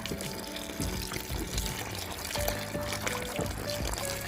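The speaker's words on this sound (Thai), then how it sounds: "ให้นำกล้วยไปล้างให้สะอาดก่อนนะคะ" Unripe bananas washed under running water, a continuous close pour and splash with intermittent sloshing and handling knocks, no speech.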